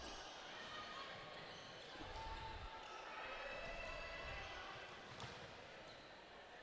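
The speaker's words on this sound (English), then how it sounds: "Ball bouncing around everywhere." A volleyball bounces during a Toronto Premier League volleyball match, with a few soft thuds under a constant crowd and commentary wash in a large hall.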